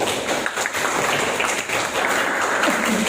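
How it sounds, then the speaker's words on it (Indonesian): An audience claps steadily during a teacher-training session held in an Indonesian classroom. The applause is dense and continuous and fills the whole stretch without pause. "Ya, tepuk tangan dulu."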